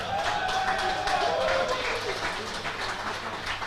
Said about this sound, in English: Let's get a round of applause for Bennett.